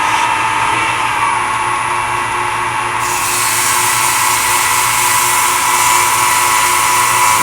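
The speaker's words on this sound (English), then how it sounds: "I better sand a little bit first." A piece of stabilized wood spins on a lathe while being sanded, giving a loud, steady high-pitched whir that brightens and intensifies partway through and then holds constant.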